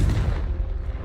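Confringo fire spell blasts in Hogwarts Legacy, a dense, booming explosive rumble that fills the whole moment, loud and sustained without pause, with no talk over it.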